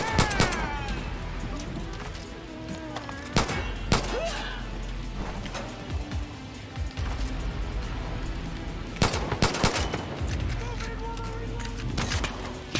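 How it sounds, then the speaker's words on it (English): Gunfire in the shooter game Far Cry New Dawn: loud, sharp cracks and thumps burst out irregularly, some in quick clusters, over a busy layer of game noise while someone talks throughout. "Somebody else is shooting at me from somewhere."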